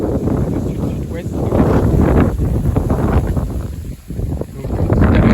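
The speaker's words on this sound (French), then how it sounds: "Le vent n'est pas trop commode" Strong gale wind from the south-southwest buffets the microphone with loud, continuous roaring gusts and rushing noise, briefly easing for a moment before surging back.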